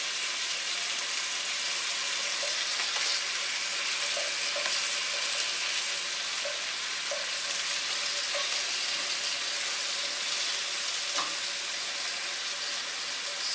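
Prosciutto-wrapped shrimp frying in a pan, producing a loud, unbroken sizzle with faint pops and crackles scattered throughout and no talking.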